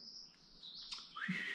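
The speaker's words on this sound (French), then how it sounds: "Ta gueule, l'oiseau, tu m'empêches de parler!" A small bird chirping outdoors, a faint series of high, thin tweets and a brief trill, heard alone without talk.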